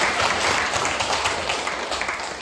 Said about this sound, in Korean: 우리 모두를 위해서 함께 박수합니다.